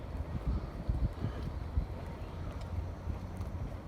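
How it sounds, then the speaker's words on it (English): Wind gusting steadily through a riverside park near the ocean in Lingang, Shanghai, a low buffeting rumble against the microphone with uneven surges and no voices. "It's a bit of a windy day again."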